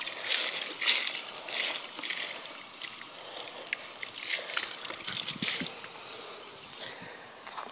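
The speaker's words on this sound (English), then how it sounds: "I use a hose to help me stir the water." Water swishing and sloshing in a bucket of aquarium play sand as a hose stirs it, with soft irregular splashes and trickles at close range and no talking.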